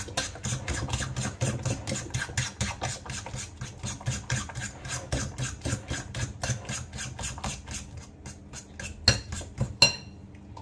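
Rapid, steady clinking of a utensil whisking one large egg in a bowl, a long run of close, evenly spaced strokes that stops just before the end, with no talking.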